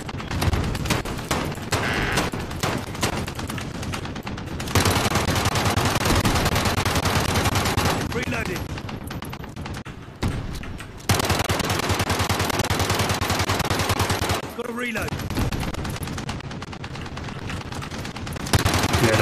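Video game gunfire in Call of Duty: Modern Warfare, dense sustained automatic bursts and fusillades aimed at a tank, loud and continuous with short pauses between volleys.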